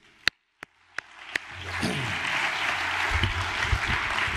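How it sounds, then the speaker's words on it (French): Audience at a French plenary session for a humanist short-story competition breaking into applause: a few isolated claps first, then dense, steady clapping that swells and holds. "Et je vous applaudis. Bravo."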